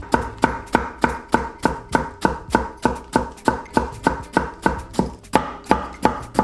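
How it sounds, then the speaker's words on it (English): A knife thinly slices white cabbage for pineapple coleslaw on a cutting board, giving a fast, steady rhythm of about three crisp chops per second that pauses briefly once before continuing, loud and close, with no talk. "you want to thinly slice some of this white cabbage."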